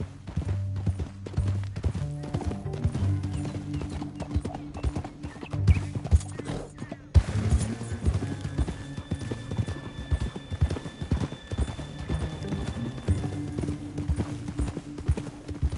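Steady clip-clop of horse hooves trotting along in the video game Red Dead Redemption 2, with an occasional whinny and faint background music under the rhythmic hoofbeats.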